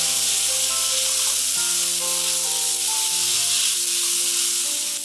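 Marinated pork stir-fries in rendered pork-belly fat with shiitake mushrooms, giving a loud, continuous hiss and sizzle. Sustained musical tones play underneath, and no one talks.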